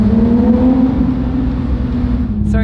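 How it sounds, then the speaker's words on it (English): A Spec Miata engine with a JCR titanium exhaust drones loudly and close, a steady low tone with a faint rising whine and no voices over it. "We have the JCR titanium exhaust in the back, sounds pretty awesome."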